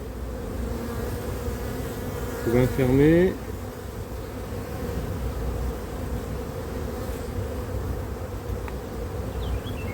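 Honey bees hum steadily throughout an open hive during a frame inspection, a dense buzzing drone, while a person speaks briefly near the start.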